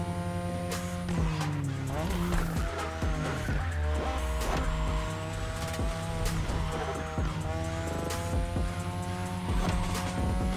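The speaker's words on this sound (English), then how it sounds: "your ride is a 3rd Gen 2002 Mazda RX-7. Lightweight, compact, a sick rotary engine" Race engine of a 2002 third-generation Mazda RX-7 with a rotary engine in The Crew Motorfest, revving hard with rising and falling gear pitches while tires squeal and skid through fast corners, loud and continuous with music or game sounds beneath.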